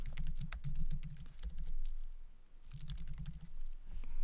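Rapid clicking of keys on a computer keyboard as a title is typed, two bursts of close keystrokes separated by a short pause, over a low background hum.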